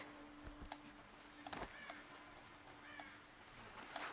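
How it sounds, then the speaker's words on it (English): A bird caws in the game Horizon Zero Dawn, two or three harsh, faint calls spaced a second or so apart over a quiet ambient background. "an actual bird sound."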